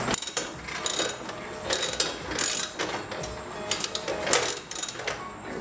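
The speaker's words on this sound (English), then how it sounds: "Take your ratchet." A ratchet tightens the blade bolt on a Hitachi 12-inch miter saw, giving repeated quick clicking strokes in an uneven rhythm, close and moderately loud.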